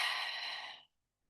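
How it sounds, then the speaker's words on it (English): A single slow, breathy exhale during a box-breathing exercise, close and clear, lasting under a second before fading into silence. "And then exhale."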